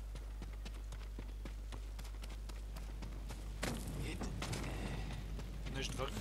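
Horse hooves clip-clopping in the video game Ghost of Tsushima, a regular stream of light thuds over a low steady hum, joined midway by a burst of louder rushing game noise.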